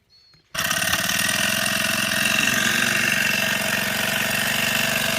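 The engine of an agricultural pesticide sprayer in a citrus orchard fires up abruptly after a brief quiet moment, then runs at a loud, steady, close idle with a rough, knocking drone.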